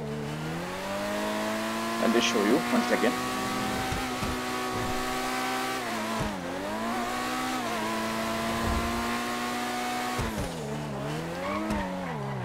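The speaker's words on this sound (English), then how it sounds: "The exhaust on this car is super amazing, guys. I mean, you can notice the pops." Lamborghini supercar engine in GTA 5 droning steadily with revving and shifting pitch, a few quick exhaust pops and crackles near the start, while someone talks over it briefly.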